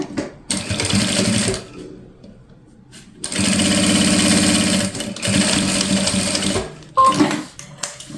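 A sewing machine runs close and loud, stitching a seam with backstitching on a fabric toiletry bag. A short burst is followed by a pause, then a longer steady run with a brief break, and no one talks.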